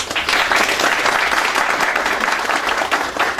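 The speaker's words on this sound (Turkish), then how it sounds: "bir alkış istiyorum." A crowd at a business association gathering claps loudly and continuously, a dense, energetic patter of many hands that stays even across the whole stretch.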